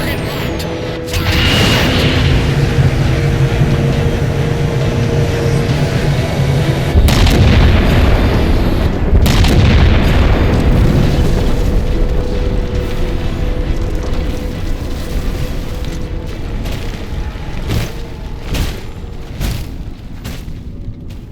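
A big gun fires at a target in Halo 4. A loud mechanical roar builds and swells into heavy booming discharges, followed by sharp cracks near the end.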